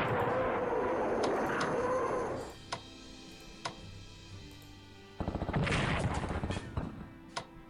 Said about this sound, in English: Here we go with the rocket artillery. It's going to be the Katyushas.